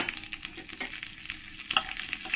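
A spoonful of black cumin, dried red chili and bay leaf sizzle in hot oil in a pan, with a crackling, spitting hiss and short bursts of louder popping.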